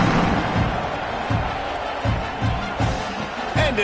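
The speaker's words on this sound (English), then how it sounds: "this crowd is buzzing after that last score" Football stadium crowd roaring after a score in a TCU Horned Frogs versus Sooners game, a steady dense wash of cheering with scattered thuds and claps rising through it.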